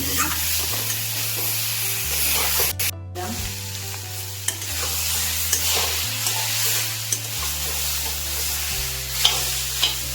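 Diced potato, elephant foot yam and cabbage fry in a pan with spices and chillies for a Bengali home-style curry, a loud steady sizzle with stirring clicks, close up, over a low humming tone and no talking.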